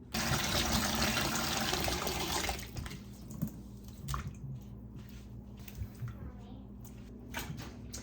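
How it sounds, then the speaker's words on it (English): Fresh-picked medley tomatoes are rinsed in water, with running-tap rush for the first few seconds, then softer sloshing, squishing and drips from hands working the fruit, under a quiet voice talking throughout. "Now I am washing these tomatoes again really, really well"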